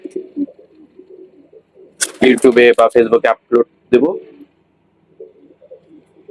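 Pigeons in an open aviary coo softly and low at the start and end, while someone talks loudly in Bengali in between.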